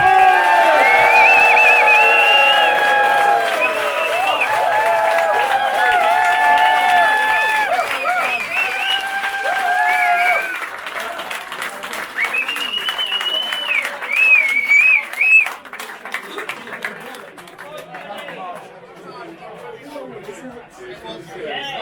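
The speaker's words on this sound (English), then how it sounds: "big round of applause for the Mountain" A large audience claps and cheers at an evening presentation for the Two Ball Rally charity car event, loud and dense at first. Whoops and shouted voices ride over the top, and the applause thins and fades toward the end.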